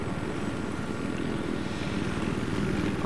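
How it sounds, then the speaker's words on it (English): A Little Bird helicopter flies in the video game Battlefield 3, its rotor throbbing in a steady, close, continuous drone with a fast, regular beat under the engine whine. "Flying in a helicopter."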